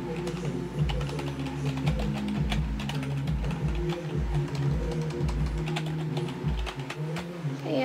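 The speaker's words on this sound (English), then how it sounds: "this is my keyboard. I have a Cyber Power PC keyboard" Rapid, steady clatter of keys being typed on a CyberPower PC keyboard, close up, with a low hum underneath and no talking.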